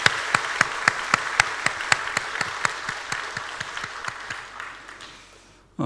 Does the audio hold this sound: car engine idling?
no